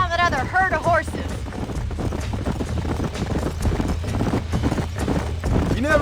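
Horse hooves clip-clop steadily in the Western video game Red Dead Redemption, a close, continuous trotting rhythm over low rumbling ground noise, with voices speaking briefly at the start and end.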